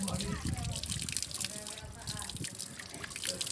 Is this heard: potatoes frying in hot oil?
no